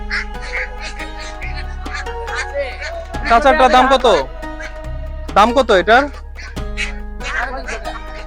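Ducks quack loudly in short bursts at a busy Sherpur village livestock market in Bangladesh, with two clear clusters of calls rising over steady crowd noise while people talk and bargain nearby.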